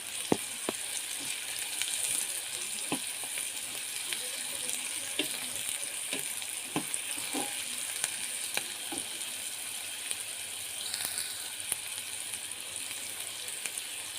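Food deep fries in oil in a pan, giving a soft, steady sizzle and bubbling with scattered sharp pops and clicks throughout.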